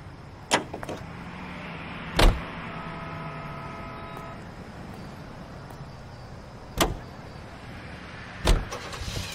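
Car driving in L.A. Noire, a steady low engine and road rumble running throughout with a few sharp clicks and thumps breaking in now and then, moderately quiet and with no talking.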